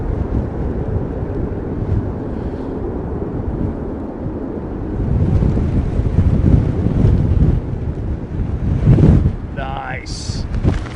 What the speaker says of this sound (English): wind's just picked up again, man